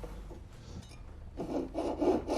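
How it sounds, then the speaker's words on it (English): A hacksaw cuts into solid silver with rasping back-and-forth strokes, quiet at first and then growing louder and more rhythmic as the blade bites. "He wants me to cut out a cross from solid silver with a hacksaw."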